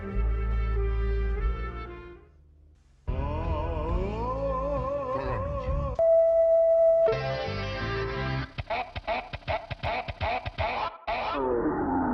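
Distorted radio-like sounds jump abruptly between bursts of music and tones, cutting out into brief silences and crackling, choppy stutters.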